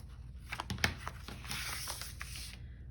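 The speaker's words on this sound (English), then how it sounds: "I think what I do want to do though is trim just a skosh off of these" Paper bag journal pages being trimmed, with a steady papery scraping and crinkling and a few sharper snips, close and fairly quiet.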